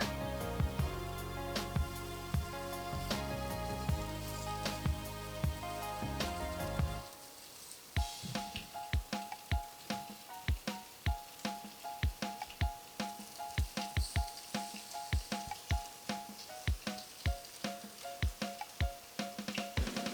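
Bacon sizzling in a hot pan with a small amount of oil. Loud music plays at first, then a steady crackling fry continues under an ongoing rhythmic music track.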